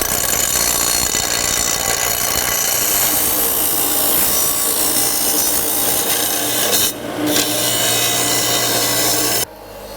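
An aluminum exhaust pipe piece for a Fairmont project car being cut, a loud continuous harsh rasping saw stroke filling the clip, briefly pausing near the end before resuming.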